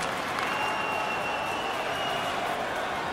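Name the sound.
crowd buzzing in NHL 22 hockey video game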